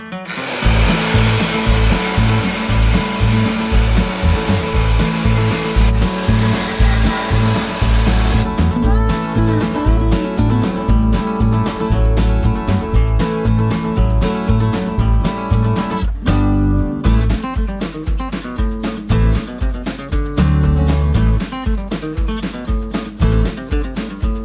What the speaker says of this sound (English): So I just got to buff that rust off and then paint it with the encapsulator